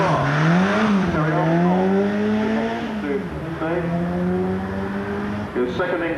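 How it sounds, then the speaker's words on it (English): A Ford Sierra Cosworth race car accelerates hard at seaside speed trials, its engine note climbing through repeated gear changes and staying loud and close throughout, with a commentator talking over it. "There goes Terry Armstrong, the Sierra Cosworth."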